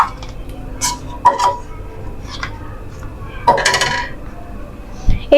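Dinner dishes set down on a table: a few separate clinks and clatters of plates and cutlery in bursts, close and fairly loud, with quiet gaps between them.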